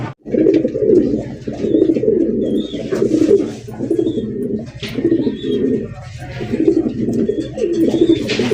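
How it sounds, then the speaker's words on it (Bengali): Bombay pigeons cooing continuously in a loud, close chorus of repeated rolling coos, the rhythmic pulses overlapping throughout with faint chirps above. "সেরা একজোড়া বোম্বাই কবুতর পাইতেছেন"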